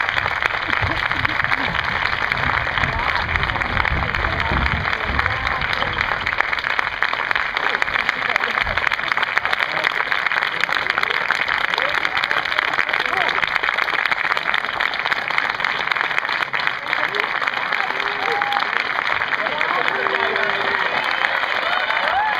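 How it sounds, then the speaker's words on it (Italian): Sustained audience applause at the close of a school play, a Latin comedy staged by high school students in Genoa; dense, steady clapping filling the hall for over twenty seconds, with some cheering and crowd noise mixed in. "Applaudite!"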